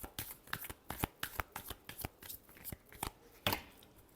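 Tarot cards being shuffled by hand, a quick run of crisp riffling snaps and soft slaps in an irregular rhythm, close and clear, with one louder burst near the end and no talking.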